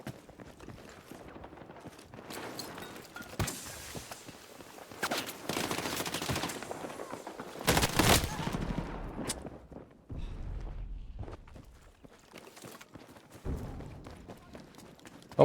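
An M240L machine gun fires in the video game Battlefield 6, with several sharp bursts of rapid automatic fire rising and falling among other in-game battle noise.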